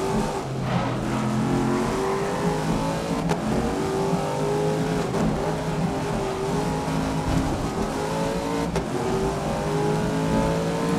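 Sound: car engine accelerating in video game GRID 2019

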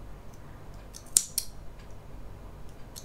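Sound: scissors cutting excess crochet yarn tail

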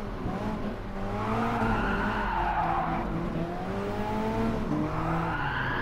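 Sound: Alfa Romeo 4C tires skidding in video game Gran Turismo Sport

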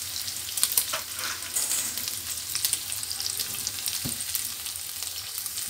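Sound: bacon frying in a pan

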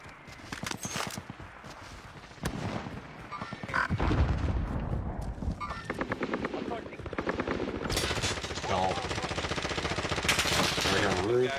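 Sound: artillery fire in video game Warzone

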